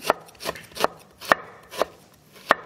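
A knife slices a halved lemon into thin rounds on a cutting board, six crisp, evenly spaced chops landing about every half second, close and clear with no talking.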